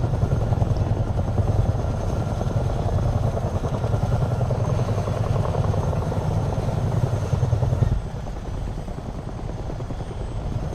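A video-game helicopter's rotor chops steadily and loudly before the sound drops to a quieter, thinner engine hum for the last few seconds, with no talking.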